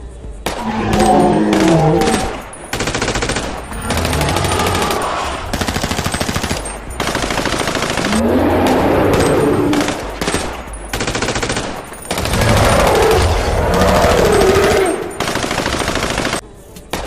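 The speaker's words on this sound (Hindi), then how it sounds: "चिंदी चोर घर से बाहर निकलता है गन लेकर और डायनासोर पर फायर कर देता है" A cartoon gun fires at a dinosaur, with several loud bursts of rapid machine-gun-like shots separated by brief pauses.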